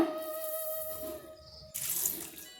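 Rice, urad dal and fenugreek being washed in water, with running tap water, a faint tonal whine, then a brief swell of splashing and swirling, close and soft.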